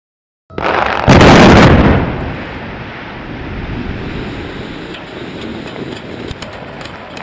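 A quarry blast for limestone extraction at a cement raw-materials site goes off with a sudden heavy boom, then a broad roaring rumble that slowly eases into a long, steady outdoor wash of debris and echo.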